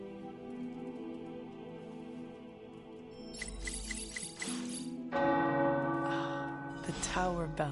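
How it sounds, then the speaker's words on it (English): Tower bells ring in a video game, several overlapping bell strikes with long ringing tones and fresh peals joining partway through, set against a soft background drone. "Tower bells are ringing."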